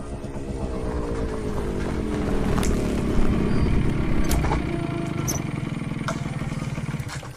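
A motorcycle rides up and arrives at night, its engine putting steadily close by and growing a little louder mid-way before easing off, with a few sharp clicks and knocks scattered over it.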